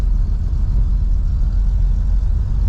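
A 1954 Chevy engine running steadily with a deep, low rumble, close and loud, holding an even drone throughout without clear gear changes.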